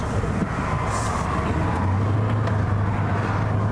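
A Mercedes GL 500 4Matic family SUV engine heard from the cabin while driving at low speed, a steady low rumble with road and tyre noise, the engine hum rising slightly as it pulls away.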